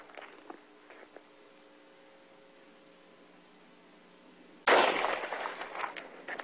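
A gun is fired once as a test, a sudden loud blast near the end that breaks a stretch of near silence and is followed by a rough noisy tail.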